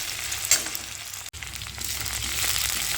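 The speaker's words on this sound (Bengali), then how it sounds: "আদাটা এইভাবে একটুখানি ভালো করে নাড়িয়ে চাড়িয়ে ভেজে নিচ্ছি।" Chopped ginger frying in oil in a pan for sambar dal with spring onions, giving a steady close sizzle with scraping stir sounds and a brief clatter partway through.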